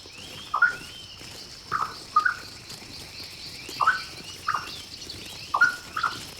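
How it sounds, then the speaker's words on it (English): Short, bright bird calls ring out in pairs and singles across a hushed jungle canopy, each a quick rising chirp, moderately loud against a faint steady hum of insects and ambient air. "The signal was subtle, a bird call that echoed through the canopy."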